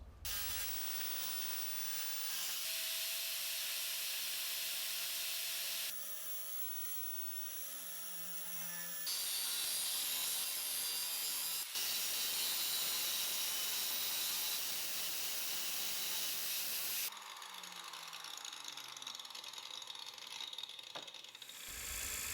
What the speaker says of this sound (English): went to the angle grinder, cut a little bit excess off the tip, cleaned up the edges